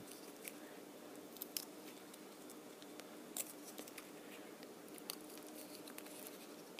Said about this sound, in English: So I do that, and I cut the circle out.